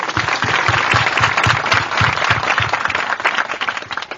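A prayer-meeting congregation claps together, with dense applause and a steady rhythmic beat running through it for several seconds.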